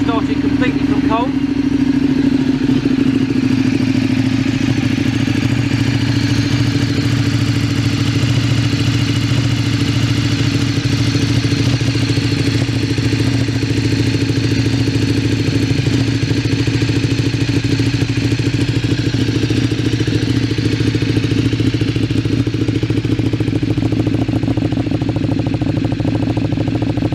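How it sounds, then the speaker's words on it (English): A Ducati 848 Streetfighter with MIVV titanium exhausts idles from a cold start, a steady loud low rumble with mechanical clatter continuing throughout, close by. "fire her up for you so you can hear what those beautiful MIVV titanium exhausts sound like"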